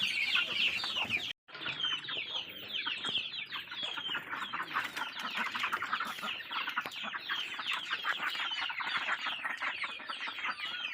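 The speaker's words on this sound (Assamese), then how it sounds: "এইখিনি কুকুৰা লোকেল হা, এইখিনি লোকেল কুকুৰা।" Local chickens at a rural household farm in Dibrugarh, Assam, cluck and call busily and continuously near at hand, with a brief silent break early on and no talking.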